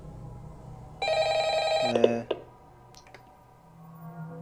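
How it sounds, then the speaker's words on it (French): Telephone ringing in the Roblox horror game Fright Night at Freddy's: a loud electronic ring lasting about a second, then a few clicks and quieter tones. "Ça sonne. Elle est où? Où est le téléphone?"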